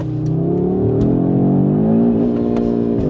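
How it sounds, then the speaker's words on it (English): A 2024 Audi RS 3 launches hard under launch control, its engine note loud and close, climbing steadily in pitch through a continuous rising roar for about three seconds without any voices. "right foot all the way down, launch control program activated, left foot off the brake, here we go"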